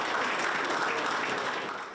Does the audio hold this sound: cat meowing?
no